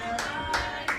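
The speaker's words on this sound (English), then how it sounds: "There's one guy clapping" A lone person claps a few times, three sharp separate claps spread across a second, heard close and fairly clear with no other voices.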